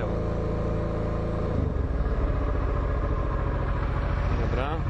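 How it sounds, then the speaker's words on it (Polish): Warmed-up motorcycle engine idling on Corsica with its cooling fan running, a close steady mechanical drone with a rougher, busier texture setting in midway and holding to the end. "rozgrzany silnik, wentylator pracuje poprawnie"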